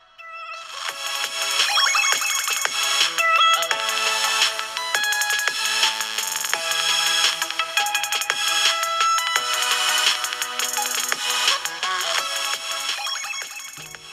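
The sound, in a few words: ringtone played on Xiaomi 12 Lite speaker test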